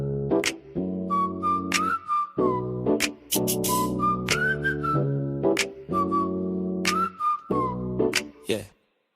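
A melodic whistle tune rises and falls in phrases within a song, carried over steady tonal backing with short breaks between sections.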